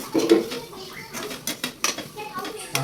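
Goat brain fry being mixed with chili powder in a pan, with clattering metal spoon-on-pan scrapes and knocks, close and irregular, alongside a voice speaking.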